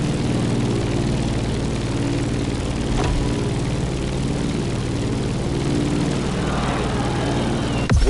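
Propeller airplane descending toward a landing in The Crew Motorfest, a steady close droning engine hum that holds level throughout, with a soft thump near the end and no talk.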